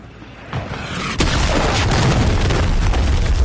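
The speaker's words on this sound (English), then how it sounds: "Hostile cruise missile incoming." A cruise missile strike in Call of Duty MW3 erupts as a loud, deep boom that swells and then holds as a sustained rumbling roar, with no talk over it.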